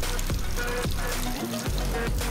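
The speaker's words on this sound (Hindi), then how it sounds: "पानी को ऑन कर दिए अभी।" Water running into a washing machine loaded with shirts, a steady close pouring and splashing stream with faint gurgles and a few brief thumps throughout.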